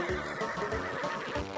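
A horse in Zelda Tears of the Kingdom whinnies loudly and close, a shrill wavering neigh with low snorting and pulsing rumbles beneath it.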